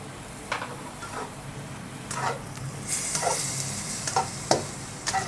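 Jujube and wood ear mushrooms are stir-fried in a pan with smashed garlic and holy basil sauce, giving a steady close sizzle broken by repeated scraping strokes of a spatula.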